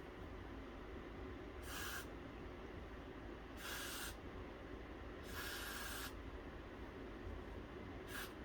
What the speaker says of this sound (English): spray some Got to Breathe spray here